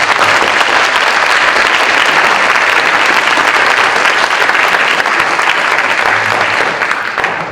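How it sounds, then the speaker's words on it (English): A large crowd claps loudly and continuously at a middle school academic honors ceremony, a dense, even wash of applause that holds steady before tapering off at the end. "let's give them one more round of applause."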